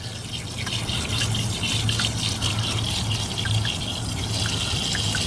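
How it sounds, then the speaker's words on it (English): Steady pressurised water jet striking the buckets of a 3D printed Pelton turbine and splashing out below, a continuous close gushing hiss with a low hum underneath and scattered small droplet ticks. "other than the water getting hit and splashing out the bottom"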